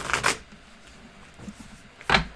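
Tarot cards being shuffled by hand: two quick riffling bursts, one at the start and one near the end, with a quieter rustle between them.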